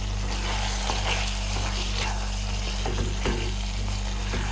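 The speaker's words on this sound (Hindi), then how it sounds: "ये सारी चीज़ें हम डाल देंगे और इसे करेंगे मिक्स।" Lahori mutton keema sizzles steadily in a pan as coriander powder, black pepper, cumin and garam masala are stirred in, with soft scraping strokes over a constant close frying hiss and no talk.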